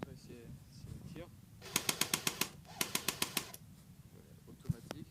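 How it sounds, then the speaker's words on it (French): A Steyr AUG A2 airsoft replica fires on automatic in two short bursts of sharp, evenly spaced clicking shots, each with about six to eight rounds. Speech comes before the bursts, and a single shot follows them. "je vais vous montrer si elle tire."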